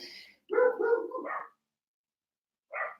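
Pet dogs bark indoors: a cluster of several rough barks in quick succession, then a pause and one more bark, close and moderately loud.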